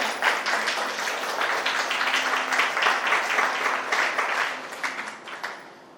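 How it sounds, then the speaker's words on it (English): A crowd claps warmly for Baba, a sustained, fairly full patter of hands that runs evenly for several seconds and then tapers off at the close. "So clap for Baba and one for her."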